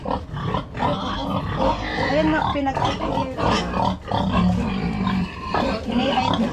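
A large pig grunts and snorts repeatedly close by on a farm, its rough low calls running under excited talk from several people.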